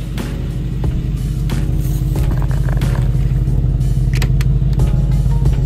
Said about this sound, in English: Ooh, riding in the G-Wagon.